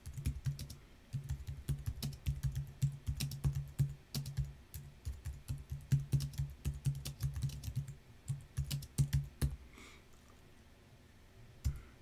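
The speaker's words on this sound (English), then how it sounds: "Let's type in some more text so that we've got" Steady typing on a computer keyboard while entering lines of text in desktop publishing software, a close, continuous patter of clicks with brief pauses, trailing off into quiet near the end.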